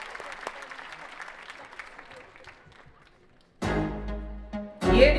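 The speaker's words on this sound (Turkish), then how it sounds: "dansçı arkadaşlarıma koskoca bir alkış rica ediyorum" A faint patter of clapping fades out, then a loud burst of applause and cheering from a concert crowd swells in near the end.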